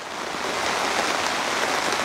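Heavy rain drums steadily on a pop-up camper and its canopy, a dense, even hiss of drops close by with no voices.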